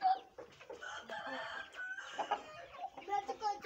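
Shamo chickens in a coop, a steady chorus of clucking with crowing mixed in, moderately near and fairly faint, and a voice talking in the background.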